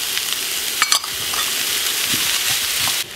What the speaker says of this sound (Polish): Chwilę, tak 5 minut smażymy, mieszamy tą kapustę.